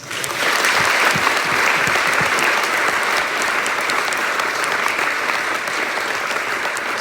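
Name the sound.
audience applause at high school band pops concert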